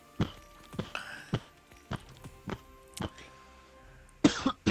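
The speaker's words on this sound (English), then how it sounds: "Wow, that's a lot of coughing," A person coughs repeatedly in loud, close bursts spaced about half a second to a second apart, ending in a heavier cluster of hacking coughs, with no talking.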